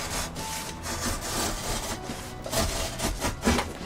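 A utility knife blade with the blade extended saws and scrapes through cardboard during furniture building, a close, rough rasping made of repeated strokes.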